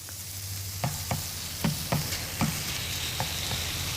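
Steady sizzle of food frying in a skillet, a constant bright hiss with a few soft clicks of stirring at irregular intervals, close and moderately loud, no voices.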